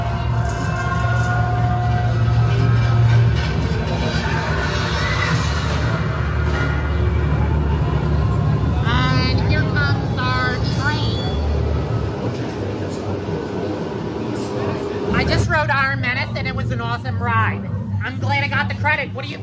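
The Iron Menace dive coaster train at Dorney Park rumbles and clatters steadily along its track while people talk nearby over the noise.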